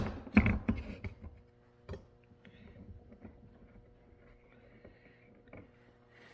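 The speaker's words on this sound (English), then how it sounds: "clamp this down to my table" A woodworking clamp is cranked down onto a workbench, with a sharp knock at the start followed by faint, scattered creaks and ratcheting clicks in a quiet room.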